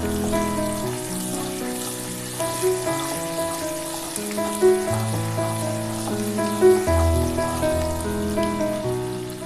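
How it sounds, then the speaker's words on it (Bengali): Green chillies, onion and garlic frying in oil in a pan, a steady crackling sizzle with scattered louder pops throughout, fairly close and heard alone. "একটু ভাজা ভাজা করে দেবো"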